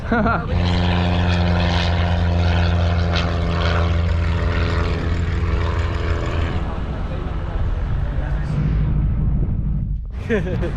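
Light propeller aircraft arriving and landing at Oshkosh 2024 on the green dot, its loud engine droning steadily close by with a strong harmonic hum that fades near the end, voices faintly mixed in.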